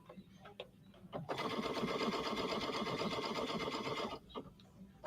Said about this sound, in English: Now I want it to sew backwards. And I want it to sew to the left.